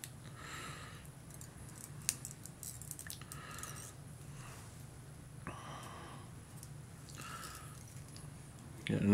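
Scissors trimming fly-tying material while tying a Doughboy Hopper fly, a few faint close snips and small clicks over quiet room noise, with soft breathing.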